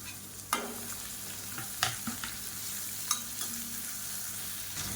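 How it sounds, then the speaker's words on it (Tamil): Grated carrot, chopped beans and cabbage sautéing in a pan, a steady soft sizzle with occasional sharp scrapes and taps of a spoon stirring, close and alone without speech. "இப்போ எல்லாமே நல்லா வதங்கிடுச்சு"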